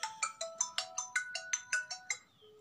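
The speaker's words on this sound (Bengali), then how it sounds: "ও মুর্শিদ, আমার বাবু ফোন করেছে" A mobile phone rings with an incoming call, playing a bright melodic ringtone of evenly spaced chiming notes for about a dozen beats before the tune trails off, heard clearly in a quiet room.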